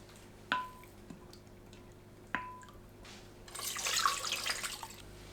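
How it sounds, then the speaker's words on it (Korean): Small dried anchovies being rinsed in water in a kitchen: a couple of sharp drips or clicks early on, then a louder burst of splashing, sloshing water near the end, with no talking. "잔멸치를 물에 헹궈주세요."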